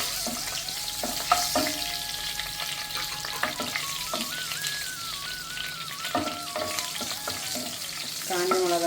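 Dried red chillies frying in hot oil for a spicy pepper chicken, with a steady close sizzle and crackle that runs throughout, broken by occasional spoon stirs and scrapes.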